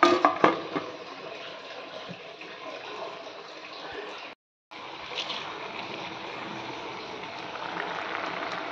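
Home-garden sour greens and potato boiling together in a pot, a continuous watery bubbling and rushing sound at moderate loudness, with a brief silent break midway.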